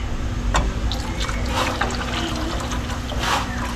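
Tap water runs steadily into a cooking pot of fish broth, a continuous close splashing trickle throughout, with no talk.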